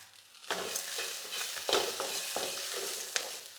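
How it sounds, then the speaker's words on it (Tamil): Curry leaves and mint leaves sautéing in a pan for chutney, a close, steady sizzle that starts suddenly, with scraping stirs and a few crackling bursts over it. "கருவேப்பிலையும் புதினாவும் நல்லா கொஞ்சம் வதங்கட்டும்"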